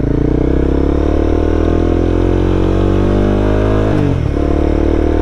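A Honda CBR300R motorcycle accelerates in first gear up to about 6,500 RPM, its engine note rising loud and close for several seconds before a brief shift or throttle dip near the end.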